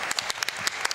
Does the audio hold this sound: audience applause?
yes